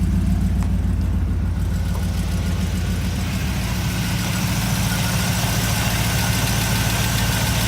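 The rebuilt engine of a 1954 Ford Mainline Business Coupe kustom hot rod idles steadily and close by, a continuous low rumble with no talk over it.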